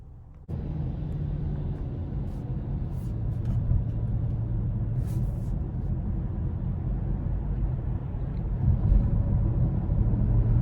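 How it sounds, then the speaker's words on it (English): A 2021 Kia Sportage S AWD drives on the road, with a steady low engine and road rumble that starts abruptly and holds even, swelling slightly near the end, with no talk over it. "now it's time to take this 21 Sportage S out on the road for a quick test drive."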